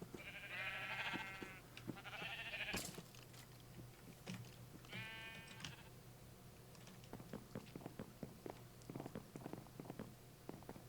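Sheep bleat in Minecraft, two or three wavering, nasal bleats early on, fairly close, followed by a steady low hum and scattered soft clicks and taps.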